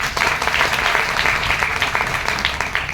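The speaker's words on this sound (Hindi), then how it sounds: "सोच करके एक बार ताली बजा दीजिए।" Audience applause from a gathering of about 125 people, a steady dense clatter of clapping hands that holds at full strength from start to finish.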